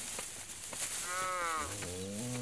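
Cattle being fed straw hay on a rural Tamil farm, with a long wavering animal call rising and then settling into lower sustained tones, close and fairly loud over a steady background hiss.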